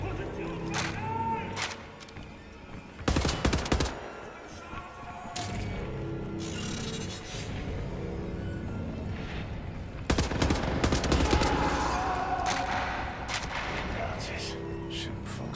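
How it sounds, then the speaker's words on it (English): Gunfire in the Wolfenstein video game: repeated bursts of shots and automatic fire, loudest around four and ten to twelve seconds, over a steady game soundscape with occasional talk. "Nazis shooting folks who can't defend themselves."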